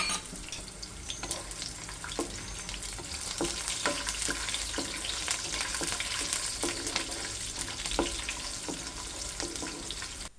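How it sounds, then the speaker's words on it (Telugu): Slit green chillies, curry leaves, peanuts and cashews crackle in hot oil with cardamom, cloves and shahi jeera, a bright continuous sizzle broken by frequent sharp pops and spatters, close and steady, with no speech. "నిలువుగా కట్ చేసిన పచ్చిమిర్చి, కరివేపాకు, పల్లి గింజలు, జీడిపప్పు వేయాలి."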